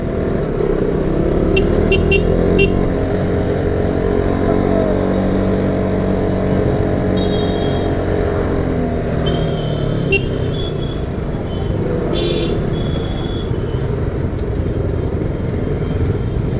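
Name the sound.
vehicle engine while driving on the road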